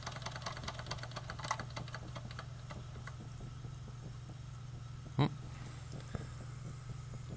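A small Wilesco D10 toy steam engine chuffs along quietly and rapidly, its rhythm sagging as it nearly stalls. A brief louder clunk comes near the end.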